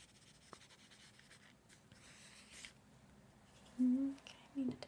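A pencil scratches lightly across paper in a quiet, close setting, with faint intermittent strokes and a few brief louder murmurs of a voice near the end.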